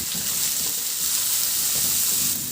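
Tomatoes and onions sizzle and sauté in a pan, a steady, loud frying hiss with occasional soft stirring scrapes and no talking.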